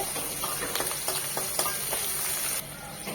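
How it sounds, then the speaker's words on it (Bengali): Chopped onion frying in a pan of oil with cumin, a steady close sizzle with a few soft stirring scrapes, no voices. "দিয়ে দিচ্ছি একটা বড় পেঁয়াজ কুচি পেঁয়াজটা একটু নরম হবে"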